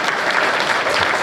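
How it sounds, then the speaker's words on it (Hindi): Audience at a Hindi poetry recital claps for a young performer, a loud, dense, continuous round of applause filling the whole moment. "उन्नति भारद्वाज के लिए पुनः तालियां बजाएं।"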